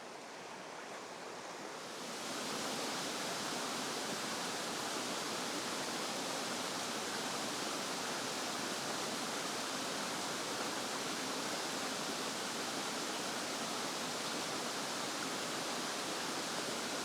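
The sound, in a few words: waterfalls in Dartmoor woodland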